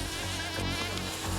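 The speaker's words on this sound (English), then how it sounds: "Otherwise known as the mosquito." A mosquito's high, steady whine fills the whole moment, close and loud, droning continuously with no pauses and no voices.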